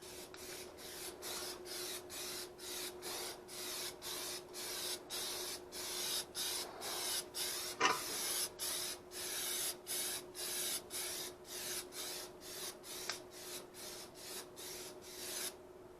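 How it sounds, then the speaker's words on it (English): Repeated short bursts of hissing spray from a spray can applying textured coating to car rocker panels, evenly spaced in a steady rhythm, close and fairly quiet, with one brief clatter midway. "spray this textured coating on the rocker panels"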